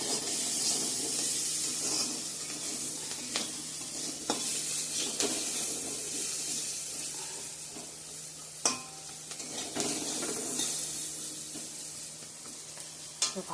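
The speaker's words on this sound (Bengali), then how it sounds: "তো এদিকে আলু আর কাঁঠাল বিচিগুলো ভাজা করে নিচ্ছি" Potatoes and jackfruit seeds sizzle steadily in a pan while a utensil stirs them, with scattered scraping clicks against the pan and no talking.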